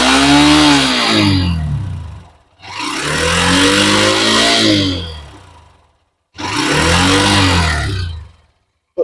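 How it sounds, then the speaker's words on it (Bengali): A Hero Xtreme 125R motorcycle exhaust revs loudly and close up in three long bursts, each engine roar rising and falling, separated by short quiet gaps. "তো এটা ছিল আমাদের এক্সট্রিম 125R এক্সস্ট সাউন্ড"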